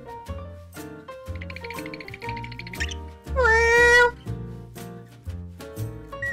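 Abandoned cat in a paper stop-motion animation, with several short meows, one louder drawn-out wail in the middle, and a music-box-like melody playing throughout.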